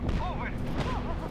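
Explosions and ongoing gunfire in Just Cause 3, a dense, continuous low rumble of blasts under a game voice and music-like tones.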